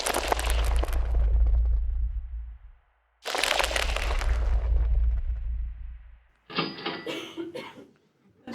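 Patented mold remover spray at work in a rental-home video game: two long crunching, crackling bursts with heavy low rumble and fading hiss, followed by a sharper, brighter sputtering burst near the end.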